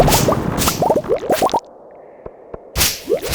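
Rapid whooshing, thwacking weapon strikes against a squid in the video game Stardew Valley, a dense burst of hits with bubbly plops, then a quiet lull with two faint ticks before more swishing hits resume.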